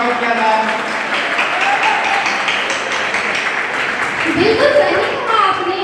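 Applause from the crowd at a school's first alumni meet in 2024, a broad steady wash of clapping lasting several seconds with voices mixed in underneath.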